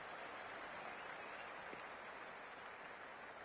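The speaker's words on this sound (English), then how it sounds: "It's evident and ever so audible that the crowd is at near bursting point at today's play" A cricket stadium crowd sends up a broad, distant roar of cheering and clapping, a continuous wash of noise held at an even level for several seconds.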